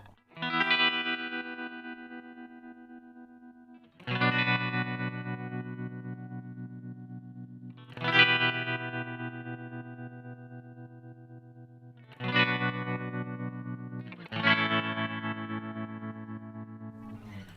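Electric guitar chords ring out one at a time with a pulsing Empress tremolo pedal effect, each strum decaying slowly before the next, five in all.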